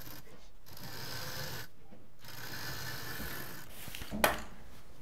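A sewing machine stitches a strip onto a transparent utility bag, giving a steady close whirring run with two brief pauses and a sharp clack near the end, with no talking.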